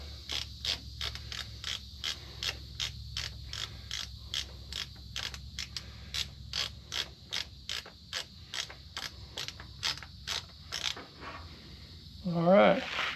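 An oil filter on a Rippa R10-5 mini excavator is turned off with a small filter wrench, producing a steady run of ratcheting clicks and creaks at close range that ends in a louder scrape, with no talking.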